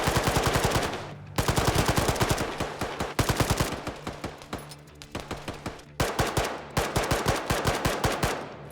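Rifle fire in the combat video game Arma 3 Antistasi: loud, rapid automatic bursts crack out in quick succession, pausing briefly between strings of shots, with no talking.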